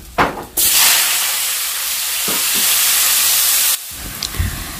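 Garlic dropped into hot oil for tempering bursts into a loud, steady hissing sizzle that holds for about three seconds, then cuts off abruptly, with a few small clinks of a utensil before and after.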